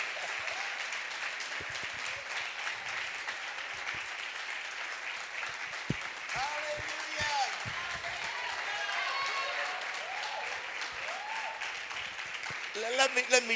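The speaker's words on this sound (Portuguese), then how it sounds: "Will somebody give the Lord a hand of applause at this place?" A church congregation applauding during a family celebration service, steady sustained clapping at moderate level with a few voices rising above it, building slightly louder toward the end.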